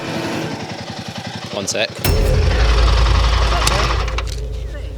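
Motorcycle engine running and idling, recorded during a bike review on a long ride: a close, loud, steady engine rumble with a rapid pulsing idle, then a heavier surge, under a brief spoken remark.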